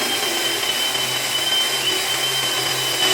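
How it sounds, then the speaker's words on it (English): A power drill with a 25mm bit boring a latch hole in a door whines continuously at close range, a steady loud motor hum with a high tonal edge. "now we switch over to the 25mm and we're going to drill the hole for our latch."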